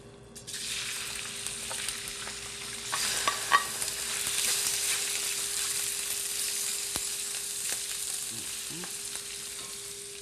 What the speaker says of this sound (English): While the shrimps and the scallops are just browning lightly